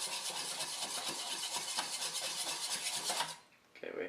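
A whisk scraping quickly and rhythmically against a bowl while mixing a creamy Caesar dressing, a bright continuous metallic rasp that stops abruptly near the end.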